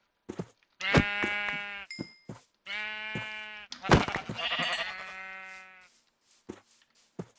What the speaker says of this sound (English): I have some sheep here.